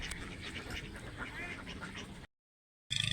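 A flock of ducks quacks in a dense, overlapping chorus at a fishing spot, many birds calling at once before a brief silence and a short burst of more quacking.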